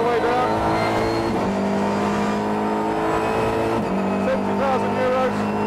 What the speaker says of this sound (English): All throttle upshifts, no need to use the clutch on the way up the gearbox